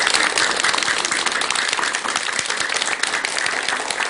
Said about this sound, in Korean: 전국의 대덕 스님들께 큰 박수 한번 올리시기 바랍니다